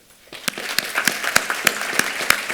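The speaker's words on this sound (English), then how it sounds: "Please join me in a round of applause for their dedicated work." A small group claps at an alumni hall of distinction event, starting after a brief quiet moment and continuing as a sparse, uneven patter of separate claps.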